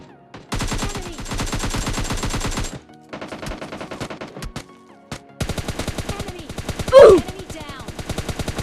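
Gunfire from the PUBG Lite video game comes in loud, rapid automatic bursts with short pauses between them, close and dominant.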